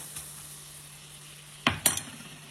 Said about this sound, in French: On va mélanger tout ça, que ça se mélange très bien.